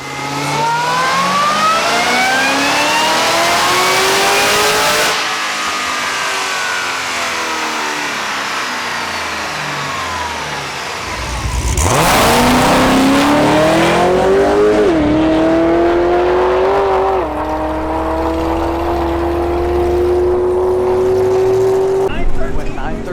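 A loud supercharged Cadillac CTS-V engine with an LS supercharger revs hard, rising and falling in pitch, then roars up again through a long sustained climb, close and powerful.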